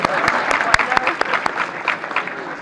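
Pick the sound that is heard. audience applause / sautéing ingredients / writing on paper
audience applause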